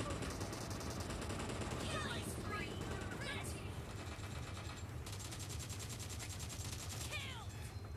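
Rapid gunfire in the PUBG Mobile video game, repeated bursts of shots from near and far under a busy game soundscape.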